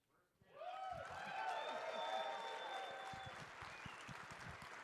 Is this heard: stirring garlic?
no